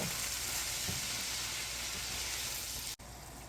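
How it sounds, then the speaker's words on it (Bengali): Green beans and mushrooms sauté in a pan over medium heat, giving a steady, close hiss of sizzling oil that holds even throughout, broken by one brief dropout near the end. "আমি মাঝারি জালে এটাকে একটু সাঁতলে নিয়েছি দুই মিনিট মতো"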